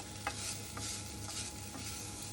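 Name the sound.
wooden spoon stirring browned onion in pan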